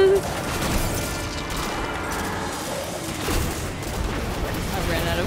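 Heavy-weapon gunfire from Destiny 2 fills the game mix as a dense, continuous barrage of blasts and impacts, loud and steady throughout, with no voices on top.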